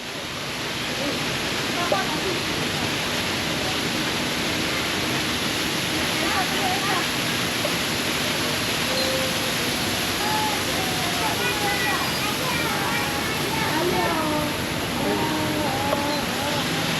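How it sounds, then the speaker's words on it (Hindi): Artificial waterfalls at the Batu Caves Hindu shrine send up a steady, broad rush of falling water that holds an even level throughout, with faint chatter and birdlike chirps scattered underneath. "यहाँ मसनूई आबशारें और ठंडे पानी के तालाब भी मौजूद हैं।"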